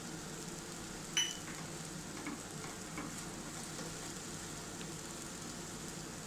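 Steady sizzling of okra and tomatoes frying in a pan with turmeric, coriander and chili powder, stirred in continuously with a soft scrape of the spoon near the start.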